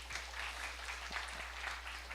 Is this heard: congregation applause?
yes